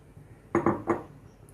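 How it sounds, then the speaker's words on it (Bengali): Fried Gobindobhog rice poured into a pot of boiling milk for saffron payesh, a quiet cluster of three quick clinking metallic knocks in the middle of a near-silent moment. "দিয়ে দিলাম ভেজে রাখা গোবিন্দভোগ চাল।"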